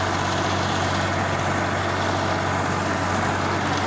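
A Swaraj 733 FE 35 hp tractor works a 7-foot rotavator at 1800 RPM in a field, its engine a steady, loud, low drone with a constant hum and no breaks or voices.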